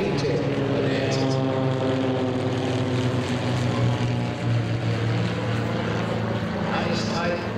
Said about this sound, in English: Here comes the Bonanza Club in sequence.